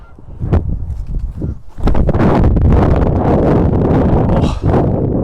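Strong wind buffets the microphone on a disc golf course, a loud, continuous roaring rush that swells and stays heavy after the first couple of seconds, with no talking.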